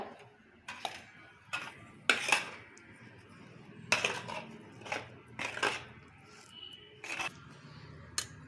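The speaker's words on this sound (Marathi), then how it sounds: "आणि ह्याच्यात एक दोन चमचे तूप घालायचं हे चांगलं मिक्स करून घेऊया" A spoon mixes ghee into a chana dal and methi masala, giving scattered close scrapes and clinks of metal against a bowl, separated by quiet pauses, with no speech.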